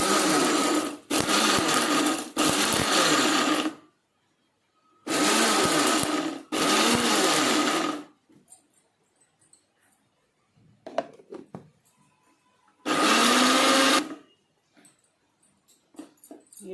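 Mixer grinder running in loud, steady bursts while grinding a lentil chutney, three bursts of two to three seconds each separated by short pauses, with quieter handling noises in the gaps.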